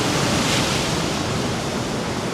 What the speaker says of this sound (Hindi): लहरों की आवाज़ है